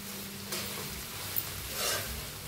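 Poha stirred with salt in a pan in a home kitchen, a soft scraping, sizzling mix with a couple of gentle spoon strokes, close and moderately quiet, with no one talking.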